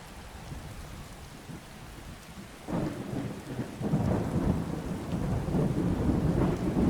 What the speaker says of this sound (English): rain effect. Not just the rain itself, but rivulets seem to be running down the screen.